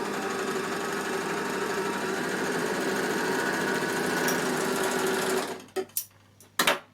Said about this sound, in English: I'm going to stitch down here and check I'm happy with it.